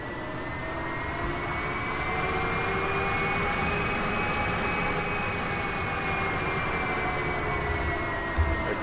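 A Boeing 777 taxiing in a flight simulator, with a steady jet-engine whine and a low rumble holding at a constant level and a slowly rising then falling high tone, heard alone without speech.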